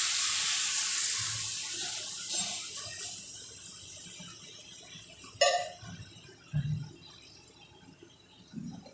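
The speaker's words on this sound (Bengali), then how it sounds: "জল দিলাম প্রথমে অল্প একটু জল দিলাম" Water pours into a cooking pan holding puti fish and soaked mustard paste, a steady hissing stream that fades, followed by a few soft clunks and stirring knocks.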